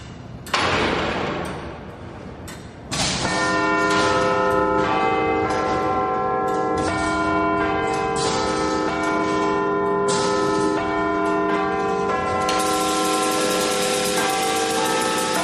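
Bells of a restored Victorian clock tower chime in a loud, ringing sequence. One early strike is followed by a fuller peal after a short pause, and overlapping tones sustain and shimmer throughout.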